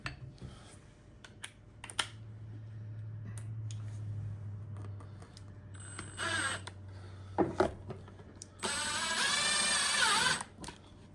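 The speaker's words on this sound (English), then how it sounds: "What I'll do now is put that screw in." A power driver sinks a 1.5-inch screw into a plaque for a European mount. A low hum and scattered clicks of handling give way to a short burst of tool noise, then a louder, sustained whirring run near the end.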